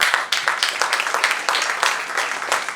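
Audience applause fills a book launch and world record celebration, with dense, steady clapping from a crowd close by that continues throughout.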